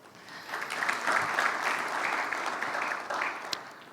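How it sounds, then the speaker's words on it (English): Conference audience applause swells quickly and holds steady, many hands clapping together at a moderate distance, with a faint voice briefly underneath. "Please give him a big round of applause."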